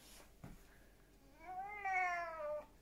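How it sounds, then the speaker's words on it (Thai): A Thai cat in an English backyard gives one drawn-out, rising-and-falling meow, clear and fairly close against a quiet outdoor background, after a couple of faint brief knocks. "แล้วก็มาร้องเหมียวเหมียวบ่น"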